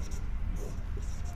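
Chalk scratching across a classroom board as a teacher writes during a Sanskrit grammar lesson, a steady scraping of short strokes at close range, with no one speaking.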